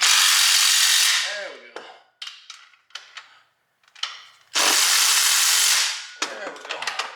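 An old Hitachi power tool works on a 1996 Nissan 240SX S14 transmission, giving two long, loud, close whirring bursts separated by short clattering rattles and brief triggers, while a voice speaks briefly.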